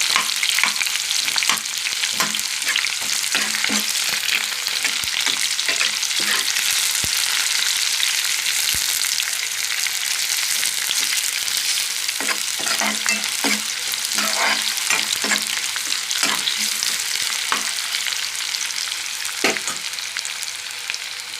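Mustard seeds, cumin, curry leaves, onions and green chillies fry in hot oil with a loud, continuous sizzle, broken by frequent close stirring scrapes and taps, no talk.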